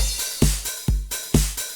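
An FL Studio drum pattern filling four bars plays back alone, a steady loop of punchy low kicks and bright hits repeating every fraction of a second with crisp, loud attacks.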